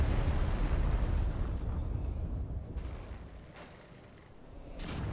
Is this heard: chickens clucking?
no